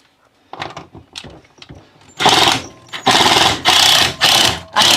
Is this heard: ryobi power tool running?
yes